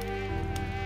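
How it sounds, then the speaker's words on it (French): A mosquito buzzing, a steady close high-pitched drone with a slight shift in tone partway through, continuous and loud for about a second. "Mais la moustique fredonne toujours dans ma tête."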